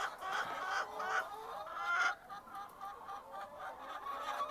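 A flock of laying hens fills a poultry house with a constant, faint murmur of overlapping clucks and chatter, steady throughout.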